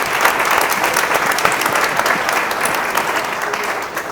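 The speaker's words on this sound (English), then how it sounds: "We can have a round of applause for our fantastic panelists." A panel audience gives a sustained round of applause, dense and steady clapping from a large crowd that fills the room evenly for several seconds before easing off slightly at the end.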